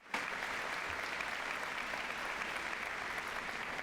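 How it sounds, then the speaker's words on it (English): Audience at a high school commencement ceremony breaking into a round of applause for school principals, an even, sustained patter of many hands clapping from a distance. "Give them a round of applause."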